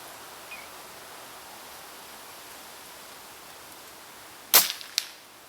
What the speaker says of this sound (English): I'm going to shoot the target on the right hand side, centre right.